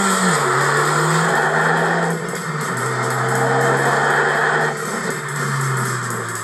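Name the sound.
car engine revving, deep triple exhaust sound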